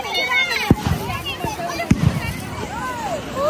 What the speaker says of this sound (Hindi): सब बम फोड़ने के सिखा रहे गाइस